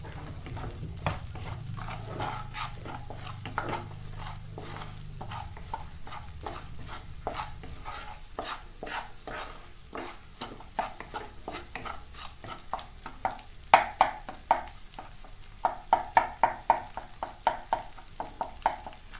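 Cold cooked rice is stir-fried in rice bran oil in a pan, with a steady close sizzle and a run of spatula scrapes and taps that grow sharper and more frequent toward the end, and no talking.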